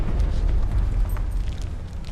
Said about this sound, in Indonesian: Ada yang meledak.